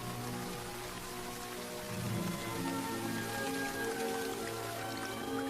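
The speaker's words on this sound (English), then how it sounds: "The rain is becoming heavier." Heavy jungle rain pours down steadily, a dense, continuous hiss of drops hitting foliage and ground that swells slightly louder partway through, with no voices.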